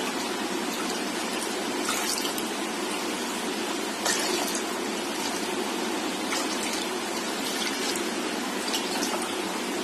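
Continuous splashing stream of five cups of water pouring into a cooking pot, steady and close, with a few brighter splashes along the way and no talking.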